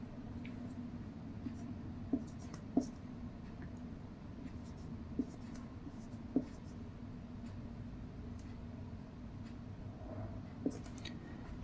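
A pen scratches across paper while writing out the multiplication table of 14, a faint, soft, continuous scribble with occasional small taps and clicks.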